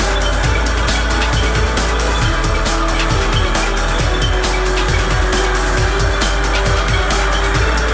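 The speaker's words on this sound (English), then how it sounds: "Control the excavator to rotate left and right." A remote-control alloy excavator, the 4DRC-C1 model, rotates left and right: a loud continuous motor whine with a regular train of mechanical pulses, close and steady throughout.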